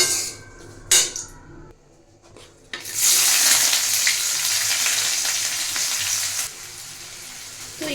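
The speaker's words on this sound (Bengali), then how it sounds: "এখানে আমি দুটো তেজপাতা দিয়ে দিয়েছি তারপরে আমি দিয়ে দেবো কেটে রাখা পেঁয়াজ কুচি" Chopped onion drops into hot oil with bay leaves for a chicken dish, bursting into a loud, close sizzle after a couple of brief knocks and a short quiet stretch, then frying steadily to the end.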